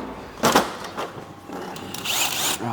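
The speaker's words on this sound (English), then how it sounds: "this is just a flat disc on a drill" A power drill with a flat sanding disc whirs in short bursts against a Volvo T5 bumper, rising and falling at close range.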